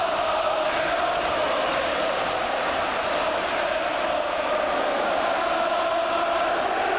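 Crowd at a Rangers versus Celtic football match in the 1998–99 season, a huge stadium roar with chanting and shouting that holds at a constant, loud level across the whole stretch.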